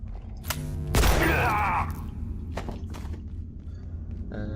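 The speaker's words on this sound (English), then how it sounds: "Who else is shooting at me?" Gunfire in the video game Abiotic Factor comes as a loud burst of shots near the start, then scattered sharp thuds and impacts, with a little speech mixed in.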